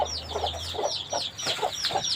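A hen clucking in a coop where a mother hen sits brooding, giving repeated soft, close clucks in an even rhythm along with a few higher chirps, all over a low steady hum.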